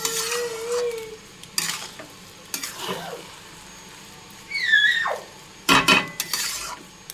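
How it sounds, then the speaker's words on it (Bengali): A spoon stirs basanti pulao in a pan with gentle, scattered scrapes and light clinks of metal against the pan. The pot noises come in short bursts, close by and with no talking. "একটু হালকা হাতে নেড়ে দেবেন"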